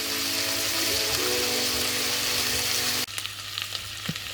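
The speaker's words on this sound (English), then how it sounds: "It's time to put in our onions." Onions fry in a pot with browned meat, giving a loud, dense sizzle that drops abruptly partway through to a quieter crackle with a few stirring knocks; no talking.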